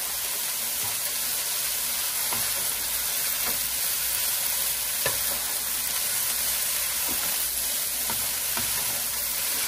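Chopped scallions stirred in a hot pan, a steady close sizzle and hiss running throughout, broken by soft periodic scrapes of the utensil.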